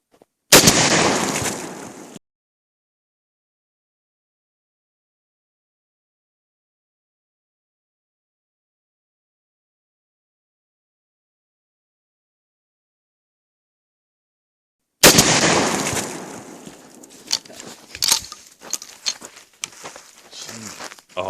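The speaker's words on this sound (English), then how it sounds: "that was the second shot with the Buckshot" Shotgun blasts firing Remington 2 3/4 buckshot at a target: a sharp, loud report at the start, a long silence, then another loud blast followed by a scatter of crackling and popping impacts.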